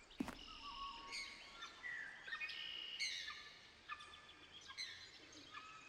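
Birds chirp in silly bird videos inside the video game The Stanley Parable, with repeated bright tweets and short call phrases at an even pace, faint and slightly distant over a low hiss.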